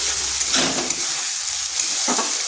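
Ginger, garlic and green chilli paste with turmeric fries in hot oil in a pan, giving a steady hissing sizzle with a couple of louder stirring swells.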